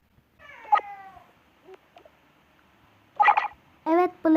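Cartoon cats meow in Toca Life World, a few separate mews with gaps of quiet between them, close and clear, with no talking over them.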